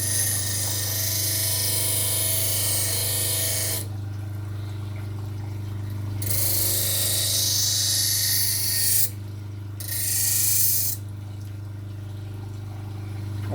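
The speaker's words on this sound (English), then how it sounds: "Elton John is a knife terrorist sharpening knives for Turks" A knife blade is ground against a power sharpener in long hissing rasps that stop and restart, over a constant low motor hum, close and fairly loud.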